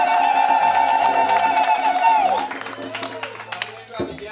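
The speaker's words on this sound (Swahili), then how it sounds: "Hebu naomba tumpe tena makofi na vigelegele." A Catholic church crowd at a youth day gathering in Moshi claps and ululates, high trilling voices ringing over a steady patter of applause before fading, with a voice speaking throughout.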